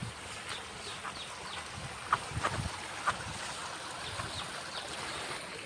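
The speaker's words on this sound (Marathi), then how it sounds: "तुम्हाला आता झरा दाखवतो डोंगरातील।" A small mountain spring on a village hillside flows in a steady, close watery rush, with a few brief splashy accents over the continuous wash.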